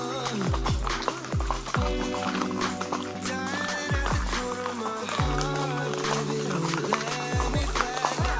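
Horse hooves clip-clopping at a brisk, steady pace during horseback riding in Mindo, Ecuador, close and clear, with a horse whinnying among the hoofbeats and no talking.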